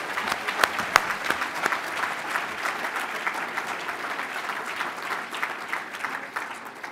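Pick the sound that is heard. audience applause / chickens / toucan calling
audience applause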